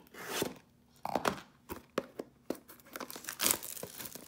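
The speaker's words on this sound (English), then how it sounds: "Last pack of 2013 promos. Let's get ripping." A 2013 Prominence football trading card pack being ripped open by hand, close crinkly foil tearing in several quick bursts with soft rustling between, no talking.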